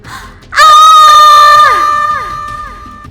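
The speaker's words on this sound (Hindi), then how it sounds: "वो गुस्से से बहुत जोर जोर से चीख रही थी।" A woman's spirit screams in anger, a loud sustained shriek for about a second that wavers and trails off into fading wails, like a horror story effect.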